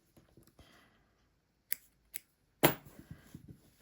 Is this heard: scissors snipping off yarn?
yes